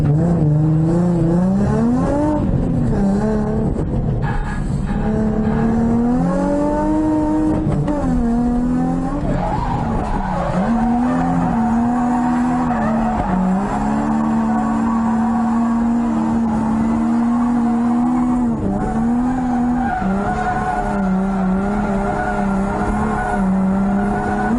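Two Nissan 350Z cars drift in tandem at a drift event, engines droning and revving loudly and continuously up close, pitch sweeping up and down as they slide, with tire squeal mixed in.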